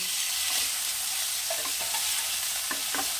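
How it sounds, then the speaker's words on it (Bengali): Boiled vegetables going into a hot pan for noodle soup, a loud, steady hiss of frying with a few soft stirring knocks and scrapes toward the end. "এরপরে এর মধ্যে দিয়ে দেব সিদ্ধ করে রাখা সবজিগুলো।"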